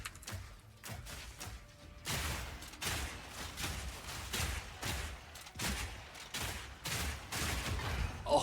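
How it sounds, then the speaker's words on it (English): Crossbow grenades burst in rapid succession during a Path of Exile boss fight, a steady rhythm of quick, muffled blasts over several seconds at moderate distance, with no voice over them. "Alright, let's hit him with the nades."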